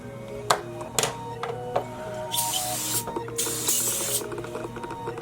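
Cool Care coolant sprayed in two short hissing bursts onto the blades of a cordless Andis Master hair clipper, close up, with light tapping and handling clicks around them and no talk.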